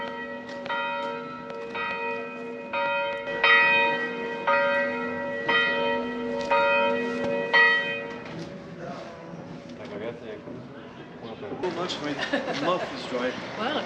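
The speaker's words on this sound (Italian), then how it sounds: "Le campane suonano mezzogiorno." Church bells ring out at noon in a Romanian town, a series of clear repeated strikes with long sustained hum, fading after about eight seconds as street noise and voices take over.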